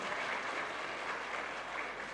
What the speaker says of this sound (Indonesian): Silakan tepuk tangan untuk diri Anda